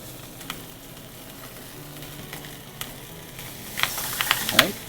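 Pork loin sears in a hot pan, a low, steady sizzle that swells into louder crackling and spitting near the end as the meat is turned.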